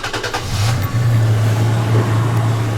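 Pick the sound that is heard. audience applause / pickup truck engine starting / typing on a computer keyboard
pickup truck engine starting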